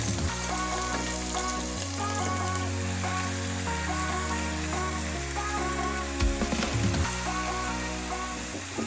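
Marinated methi chicken dropped into a hot wok, giving a loud, continuous sizzle and crackle of frying, with a low background hum and a brief clatter near the end.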